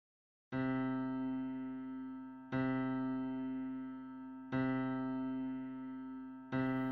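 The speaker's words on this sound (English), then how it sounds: "what you're hearing right now is a sonification of planetary orbits from astrophysicist Matt Russo" Sonification of the TRAPPIST-1 planetary orbits by astrophysicist Matt Russo: a rich sustained harmonic tone struck afresh every two seconds, each note ringing and slowly fading before the next, clean and steady with no talk.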